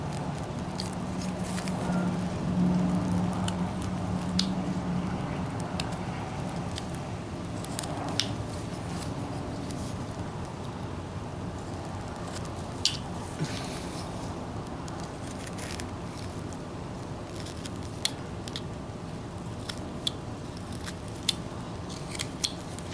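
A knife works steadily at a carved wooden golfer figure, cutting hair detail with soft scraping and short slicing strokes, continuous and close over a faint background hiss.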